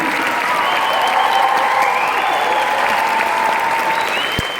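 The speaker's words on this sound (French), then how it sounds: "La chorale d'adultes Inter-Église, on les applaudit." Applause for an adult inter-church choir at a cantata concert, a steady, loud wash of clapping from a large audience with faint voices mingled in.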